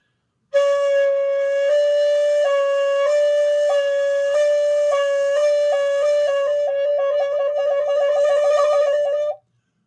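A shakuhachi bamboo flute played slowly, each finger held down until the next hole opens, giving smooth sustained notes that step between pitches before breaking into quicker repeated ornamental flutters near the end.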